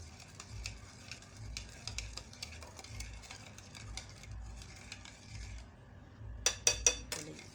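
A spoon stirs sugar syrup for fruit chaat in a pot, soft scraping and light clinking of metal at low volume, ending in a few sharper taps against the rim.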